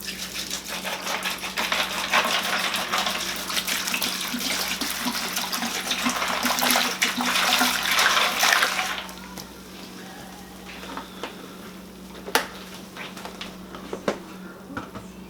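Apple juice pours steadily into a container for a turkey brine for several seconds with a bright splashing rush, then stops, leaving a quiet hum and a few small knocks.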